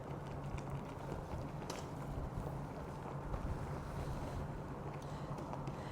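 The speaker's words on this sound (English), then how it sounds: "It's really windy." Steady, heavy wind rushes and buffets across an open cruise ship deck off Bar Harbor, Maine, a constant low roar with gusts, no voices.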